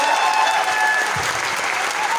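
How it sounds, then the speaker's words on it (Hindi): Audience applause fills the room at a motivational speech, loud and dense steady clapping from a large crowd that continues without a break. "एक बार सर के लिए जोरदार तालियां होनी चाहिए।"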